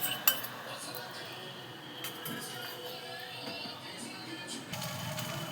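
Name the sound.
mixing prawn and egg chow noodles in a pan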